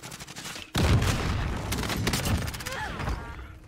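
Gunfire in Call of Duty: Warzone, with a sudden loud burst of shots followed by sustained rapid fire and scattered cracks, while a voice talks over the shooting.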